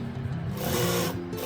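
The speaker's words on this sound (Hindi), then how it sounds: "अब इसकी सिलाई हो जाएगी गले की पट्टी की।" A sewing machine stitches the neck strip onto a plain blouse, a steady close mechanical whirring and rubbing that runs through the brief moment without a break.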